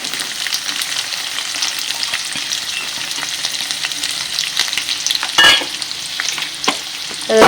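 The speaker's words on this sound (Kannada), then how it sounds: "ಕಲಸಿದ ನಂತರ ಚಟಪಟ ಅಂತ ಅಂದ ನಂತರ ಅದಕ್ಕೆ ನಾವು ಈರುಳ್ಳಿಯನ್ನು ಹಾಕಬೇಕು" Onions fry in a pan for poha, giving a loud, continuous sizzle. Scraping stir strokes and a few sharper clatters near the end come through with no talking.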